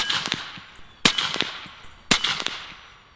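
AEA HP MAX .357 air rifle fired at a target, three loud sharp cracks about a second apart, each trailing off in a ringing decay, with no talk between shots.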